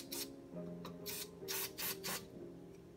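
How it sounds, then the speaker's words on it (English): Several short bursts of electrical contact cleaner spray hiss into a microwave's switch, a few quick pulses close up, over a faint steady hum. "get some electrical cleaner and spray in the switch"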